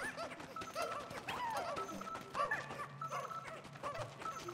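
A dog whimpers and yips in Pikmin 4, with several short whiny cries against a busy game soundscape of music and effects.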